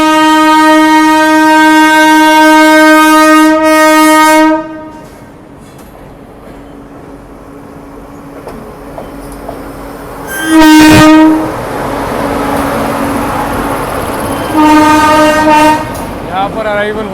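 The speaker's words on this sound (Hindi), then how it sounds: "यहाँ पर अराइवल हो रहा है लखनऊ नई दिल्ली शताब्दी एक्सप्रेस का, स्वर्ण शताब्दी एक्सप्रेस।" Lucknow–New Delhi Swarna Shatabdi Express pulling into a station, its loud horn blaring for several seconds, then a rumbling passage with a second short blast and a later horn burst over steady rail noise.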